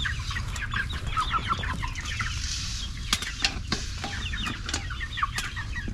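Chickens cluck in a farm pen at feeding time, a dense continuous chorus of many birds with sharper calls popping out near and loud throughout.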